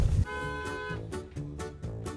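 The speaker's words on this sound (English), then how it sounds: "I think our car just honked at the car in front of us" A robotaxi's car horn honks at the car ahead with a sustained tonal blare, fairly close, steady over a couple of seconds with a faint rumble underneath.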